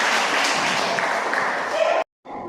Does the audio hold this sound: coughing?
no